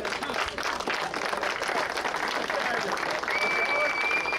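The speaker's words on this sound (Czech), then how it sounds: "Hezky mu zatleskejte" Crowd applause for a rally driver in a BMW E30 2.7 M at the Bozkov-Cimbál 2024 rally event, steady outdoor clapping with someone speaking over it through a loudspeaker.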